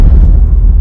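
A sudden, loud, low blast rumbles for under a second as a sound effect in a horror story, heavy and booming with no voices.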